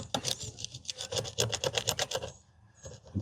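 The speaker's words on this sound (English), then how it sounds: "you'll be scraping a bit because that stuff holds pretty good" A scraper drags repeatedly over old sealant around an RV city water fill inlet, giving rapid rhythmic rasping strokes close to the mic, then a brief pause before scraping resumes.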